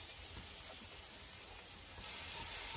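Crushed garlic sizzles with frying potatoes in a pan, a steady faint hiss that swells slightly toward the end.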